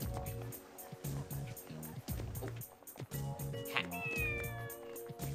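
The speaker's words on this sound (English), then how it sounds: "Cats all over the place, good lord." Several cats meowing repeatedly in the video game Devil Summoner 2, plaintive mewing calls over a looping musical background, fairly quiet with a brief rising yowl midway.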